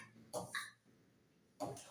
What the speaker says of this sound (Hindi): खांसी खाली जबरदस्त है